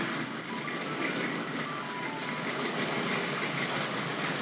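A Tri-ang Railways B12 model locomotive rumbles steadily along its track with a continuous whirring drone and faint clicking, running close by without pause.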